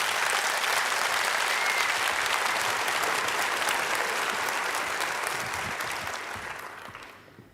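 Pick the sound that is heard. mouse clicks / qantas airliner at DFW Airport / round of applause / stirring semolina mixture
round of applause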